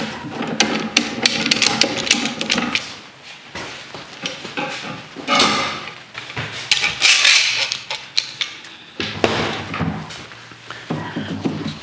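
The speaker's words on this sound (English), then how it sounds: "so we'll go ahead and take off the clamps" Wooden clamps are knocked loose and pulled off a freshly glued blanket chest in a woodshop, giving a string of irregular hard wooden knocks, clacks and rattles, fairly close, with no talking.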